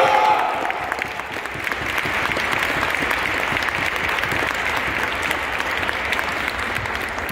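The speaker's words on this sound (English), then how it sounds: "Ladies and gentlemen, round of applause." Sustained audience applause fills a high school JROTC drill meet gym, a dense steady wash of clapping from a large crowd that swells briefly at the start and holds evenly throughout.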